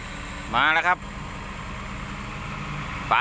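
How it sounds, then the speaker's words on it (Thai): A Kubota tractor engine idles with a steady low rumble throughout while working a small, muddy road, and someone speaks briefly near the start and again at the end. "มีรถไถคูบต้าครับ มาทำทางครับ"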